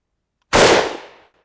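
A Carcano rifle with a bayonet fitted fires one close, loud shot after a moment of silence. The sharp crack booms and then fades away in under a second.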